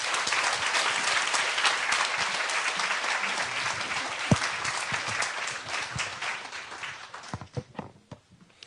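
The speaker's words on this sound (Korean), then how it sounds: "우리 힘찬 박수로 우리 선교사님 맞이하겠습니다" Loud, sustained applause from a church congregation welcoming a visiting missionary speaker, dense clapping throughout that thins out and fades near the end.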